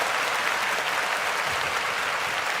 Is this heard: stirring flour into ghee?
no